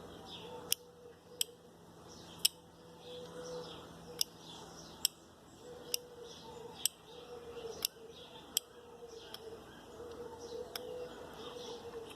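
An automotive five-pin relay that is sticking clicks sharply at even spacing about once a second over a quiet, faintly buzzing background, with a few irregular gaps where it fails to click.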